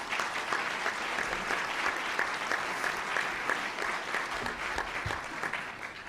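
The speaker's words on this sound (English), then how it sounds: "Please give them a round of applause." A luncheon audience at the National Press Club claps in sustained, dense applause, a steady broad patter of many hands at moderate level, heard from within the room without any voices.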